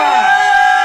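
A church congregation at a prayer service shouts and cheers together in joy, a loud, dense wall of voices that stays steady through the whole short burst.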